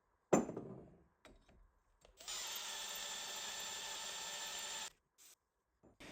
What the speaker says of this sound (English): So we want to have our drill bit going slowly and keep it nice and cool to stop it going blunt.